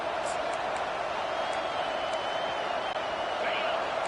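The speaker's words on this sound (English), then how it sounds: "This crowd, full throat, splitting the eardrums and letting them know it's going to be a long day." Football stadium crowd roaring, a dense steady wash of distant massed voices with no breaks, heard from afar under a broadcast commentator's speech.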